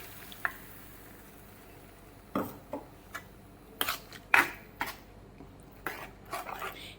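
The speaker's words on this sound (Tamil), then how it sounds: "இந்த மிக்ஸி ஜார் கொஞ்சம் கழுவி தண்ணி ஊற்றிக்கலாம்" Short clattering knocks and clinks of a mixer-grinder jar being handled, rinsed and filled with water, with a few sharp hits spread over several seconds and faint water sounds.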